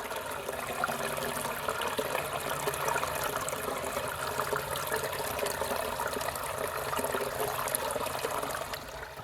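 Water flows out steadily, making a continuous, fairly loud rushing and trickling wash that runs unchanged for several seconds with no voices.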